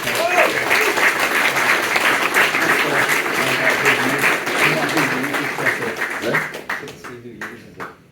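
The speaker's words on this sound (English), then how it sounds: "Please, a big round of applause." Sustained applause from a live convention audience, many hands clapping in a thick steady wash that thins into scattered individual claps near the end, with faint voices underneath.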